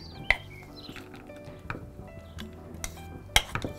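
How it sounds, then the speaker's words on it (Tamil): Diet sprout salad gets scooped into a bowl, giving sparse light clinks and taps of utensil against dish amid soft rustling, quiet and close. "இப்போ நம்ம இதை வந்து பவுலில் மாற்றிக்கலாம்."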